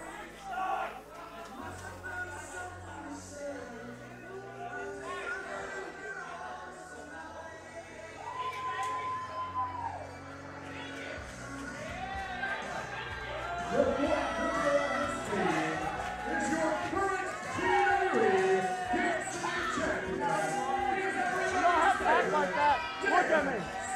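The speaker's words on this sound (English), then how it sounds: "Very lively crowd here in Red Bank tonight" A lively crowd at a TWE Turkey Bowl wrestling event in Red Bank chatters and shouts, a dense busy din that grows louder and rowdier toward the end, with voices and music-like tones mixed in.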